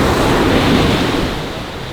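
Ocean waves wash onto the beach at Koh Chang, Thailand, in a loud, continuous roar of surf with some wind rumble, easing slightly toward the end. No voices.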